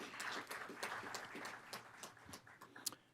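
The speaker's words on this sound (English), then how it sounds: "Give them a round of applause." A room claps at a San Bernardino County board meeting, a faint, uneven round of applause that thins toward the end, heard from a distance with no speech over it.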